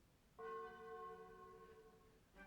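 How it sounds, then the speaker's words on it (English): The bell rings out once at midday, a single clear metallic strike with a long, tonal, slowly fading ring, moderately near in a quiet setting, and a second strike starts just at the end. "The midday bell."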